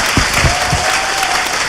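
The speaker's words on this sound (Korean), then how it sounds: "손으로 박수" Audience applause at a Korean political talk show, a steady wash of many hands clapping for nearly two seconds, loud and close with no speech over it.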